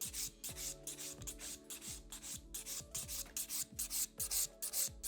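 Rhythmic rasping strokes of a file working a sculpted hybrid acrylic nail, a steady series of close, quiet back-and-forth scrapes with short pauses between passes and no talking.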